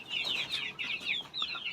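Desi hens kept through winter, some of them sick, cluck in a close series of short, throaty calls, several overlapping phrases rising and falling with no talk.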